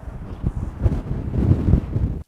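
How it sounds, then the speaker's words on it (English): Strong wind at a beach buffets the microphone in continuous low, rumbling gusts that swell and fade, loud and close, with no talk over it. "Yes, it's windy."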